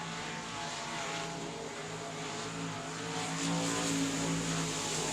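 Race car engine at full throttle on a dirt speedway in Texas, a loud continuous roar that holds for the whole stretch and swells slightly toward the end, with no talk over it.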